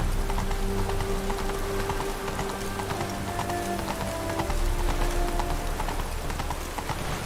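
Hooves of the horse Roach in a video game, a steady clip-clop gait over a continuous rain-like wash and low sustained musical tones, moderately close, with no talk.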